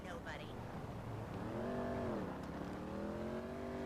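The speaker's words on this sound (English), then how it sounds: "I can hear something going as well. That was one of them, that truck." Truck engine in GTA 5 droning nearby, its rising and falling tone swelling midway as it moves, under continuous conversation and a faint background hum.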